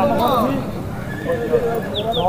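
A mare at Tandla Mandi neighs and whinnies loudly and close by, with clip-clop of hooves underneath and someone talking over it.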